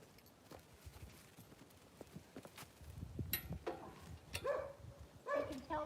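A saddled horse walking on a hard surface, hooves clip-clopping in an uneven, unhurried rhythm, faint at first and then closer and louder, with some rustling.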